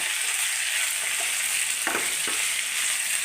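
Ivy gourd (kovakka) stir-fried in a pan with masala makes a continuous bright sizzle. A couple of soft spatula scrapes turn the pieces, close and clear, with no voices.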